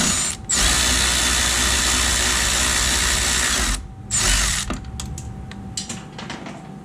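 A ratchet works a bolt loose on the intake of a Jeep 3.6L engine during an oil filter housing replacement: a loud, close, sustained mechanical whirr, a brief pause, another burst, then fainter scattered clicks.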